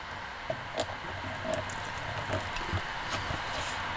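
Water poured from a small container onto a folded paper towel holding vegetable seeds gives soft dripping and wet splashing sounds, close and quiet, with a few distinct drips.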